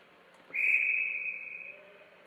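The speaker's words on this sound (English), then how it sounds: "The whistle will sound." Referee whistle at a JWHL junior women's ice hockey game in Canton, Stanstead vs Washington, blown for offside: one long, loud, steady blast that holds for over a second and then trails off, alone with faint arena hum behind.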